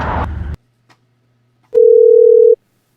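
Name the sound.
telephone dial tone as phone call connects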